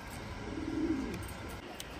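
Racing pigeons kept for long-distance racing give one soft, low coo near the middle, faint against a quiet room hum, with no talk.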